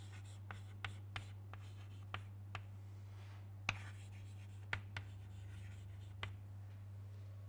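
Writing on a board during a lecture: sparse, irregular taps and short strokes, fairly faint, over a steady low electrical hum, with no one speaking.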